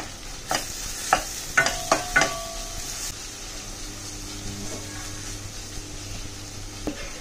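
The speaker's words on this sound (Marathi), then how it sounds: "व्यवस्थित हलवून घ्यायचं." A spatula stirs spiced mashed eggplant bharit with sesame, coriander-cumin powder and coriander leaves in a pan. A cluster of sharp scraping knocks comes early, then a steady, close frying hiss carries on with only occasional taps.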